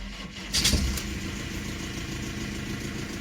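A BMW E46 being revived after sitting with an airlocked cooling system, its engine turning over briefly and catching into a steady, loud idle that runs on alone.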